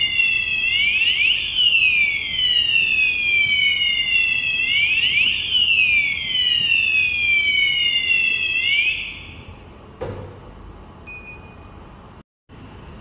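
FP300 fire alarm panel sounding a loud electronic alarm close by, a repeating sweeping whoop-like tone cycling in a regular rhythm before it cuts off, followed by a brief click and quiet.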